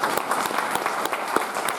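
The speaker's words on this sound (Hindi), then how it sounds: "जोरदार तालियां हो जाए।" Loud, dense applause from a seminar audience in Varanasi, a steady roar of many hands with sharper individual claps standing out throughout, heard alone without talk.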